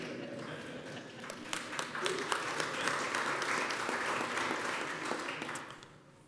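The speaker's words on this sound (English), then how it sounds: "You can clap for Greenview Park. Go ahead." A civic audience applauds at a State of the City address, clapping building from scattered claps into steady, fairly loud crowd applause with distinct sharp claps, then tapering off near the end.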